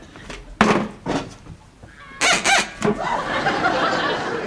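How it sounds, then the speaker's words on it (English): A toy duck warbler gives a few quacking, warbling bursts, then a louder run of calls, with room noise and a little laughter in the background. "That is a duck warbler. It's very realistic, isn't it?"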